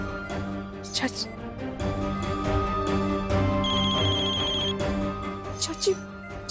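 A telephone rings in repeated bursts through the clip, with people talking over it.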